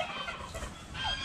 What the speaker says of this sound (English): Don't worry about the turkeys. They're just turkeys.